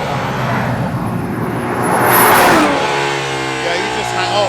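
An Aston Martin Valkyrie accelerates hard in fourth gear on a race track, its engine note rising into a loud, close howl that peaks midway, then settles into a steady, strongly pitched drone.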